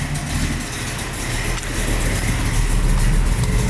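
A 1969 Camaro with a 383 stroker engine and 4-speed idles on a cold start, a steady low rumble held at a constant level throughout, with no revving.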